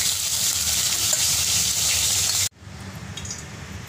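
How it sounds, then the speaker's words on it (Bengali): Tilapia pieces frying in hot oil in small batches for a tamarind-style curry, a bright crackling sizzle that cuts off abruptly, then resumes more quietly with softer bubbling. "অল্প অল্প করে সব মাছগুলোকে বেশ কড়া করেই ভেজে নেব"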